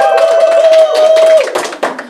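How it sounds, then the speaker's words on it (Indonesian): Brief clapping from a small group over a sustained tone, a quick burst of applause that thins out within two seconds. "tepuk tangan dong"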